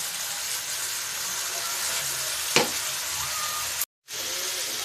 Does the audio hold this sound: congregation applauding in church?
no